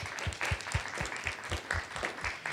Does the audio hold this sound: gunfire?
no